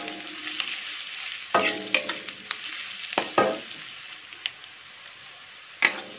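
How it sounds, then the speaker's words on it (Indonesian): Onions stir-fried in a pan with a steady sizzle, broken by a few sharp clatters of a spatula scraping and tossing them, loud and close, with no voices. "Kita tumis sampai wangi."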